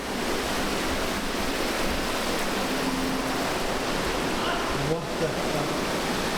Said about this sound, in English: there's a steep incline with water cascading down